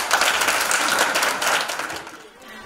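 A church congregation breaks into loud, dense applause at a Christian gathering, sustained close clapping for about two seconds before tapering off.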